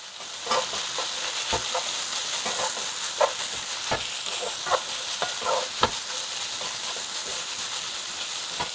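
Onions being stirred into a chicken spring roll filling in a hot pan, with repeated spatula scrapes and knocks over a steady sizzling hiss, close and alone.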